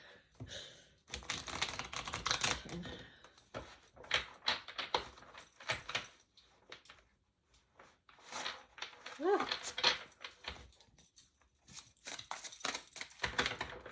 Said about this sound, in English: This deck's so big to shuffle, I tell you.